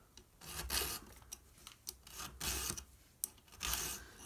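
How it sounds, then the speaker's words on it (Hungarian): A file rasps across a chainsaw chain's cutters in short, steady outward strokes, each one a distinct scraping pass that repeats in an uneven rhythm, close up and fairly quiet, with no talking. "nem oda-vissza reszelni kell, hanem csak kifele"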